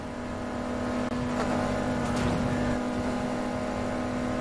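A BMW M3 E30 with a 2.0-litre four-cylinder engine in Need for Speed Heat, holding a steady loud drone that swells briefly mid-rev, close and continuous without speech.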